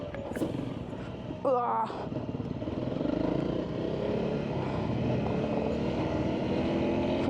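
A motorcycle engine running along a trail, a rising, steady drone that builds after a brief grunt and rustle, heard up close with wind noise.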